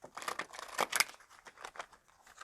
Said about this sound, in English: Okay, and we're going to shuffle.